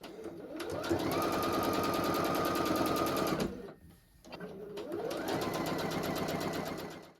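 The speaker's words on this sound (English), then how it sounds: "I'm just going to sew the four corner pieces together as a little four patch" A sewing machine stitches quilt block pieces together into a four patch, running in a steady close whir for about three seconds, pausing briefly, then running again at an even speed.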